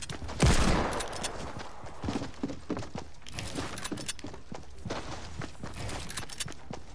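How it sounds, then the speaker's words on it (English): Rapid bursts of hand cannon gunfire in a video game, a loud shot opening the stretch followed by scattered repeated reports and clattering steps at mid distance. "This kid has a hand cannon, I'm scared."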